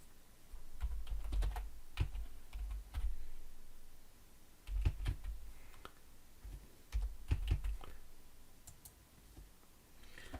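Keys tap on a computer keyboard in short bursts of quick clicks separated by pauses, as a username and password are entered; the sound is soft and close, with no speech.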